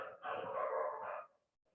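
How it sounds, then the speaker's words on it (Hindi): Dogs barking, heard as one drawn-out, harmonic bark or howl lasting about a second at moderate distance, with no talking over it, then quiet. "देख रहे होगा इस कुत्ता लोग कैसे भौंक रहा है"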